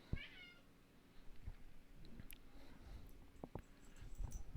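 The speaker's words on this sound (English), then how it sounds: "My cat is screaming from the rafters." A house cat gives one loud, strained meow near the start, then only scattered faint thumps and low rumbling noise follow, with no talking.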